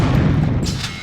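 The 8-ball launcher in Unreal fires its primary shot, a single close, loud thumping blast with a low rumble that decays over about a second.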